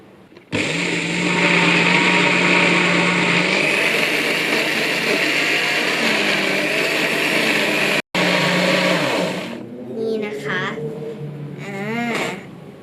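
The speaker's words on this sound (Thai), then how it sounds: "เดี๋ยวเราก็จะปั่นเลย เสียงจะดังนิดนึงนะคะ" A loud blender whirs steadily through milk for several seconds, briefly cuts out, runs again, then stops as a voice comes in over the fading motor.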